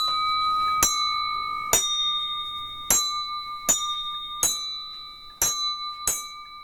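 A glass carillon in Bourbourg rings seven separate bright, bell-like strikes at a steady, unhurried pace, each with a sharp attack and a long, shimmering ring that overlaps the next, loud and close with no talking.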